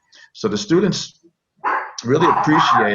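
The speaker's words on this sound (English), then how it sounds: "that's my dog barking." A pet dog barks a few times in the background of an indoor room while a person talks steadily in the foreground over it.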